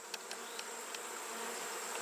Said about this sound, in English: These are my killer bees.